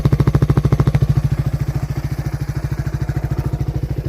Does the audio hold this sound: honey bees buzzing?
no